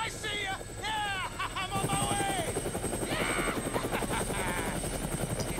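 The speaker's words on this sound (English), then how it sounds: "Sound of the helicopter in the distance tells us otherwise." Helicopter rotor chopping steadily under excited shouting and talk in the Dead Rising video game, a continuous loud thrum that builds partway through as the aircraft draws nearer.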